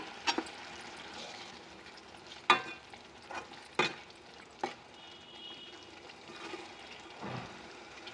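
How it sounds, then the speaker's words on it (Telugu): Spinach and tamarind stew simmering in a cooking pot, with a quiet bubbling base broken by several sharp stirring clatters and spoon knocks at irregular intervals, fairly faint and close, with no talk. "పులుసు బాగా ఉడుకుతోంది"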